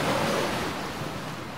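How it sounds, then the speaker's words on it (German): Surf and sea waves in the Gothic 2 video game, a continuous broad rushing wash of breaking water, loud and close with a slight swell that fades gently, no voices. "es rauscht die Brandung und das Meer"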